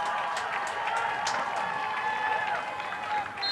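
A crowd at Elliott Field applauds and cheers during a Fitchburg State versus Bridgewater State college football game, with sustained clapping from across the stands.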